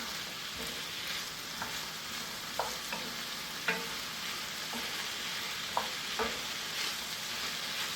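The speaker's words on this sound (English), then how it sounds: "So just going to give this a good mix" Spiced potato and vegetable mixture is stirred in a frying pan over a constant sizzle, with a spoon scraping and knocking the pan several times at irregular intervals, close and clear with no talking.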